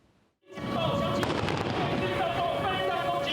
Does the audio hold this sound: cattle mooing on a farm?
no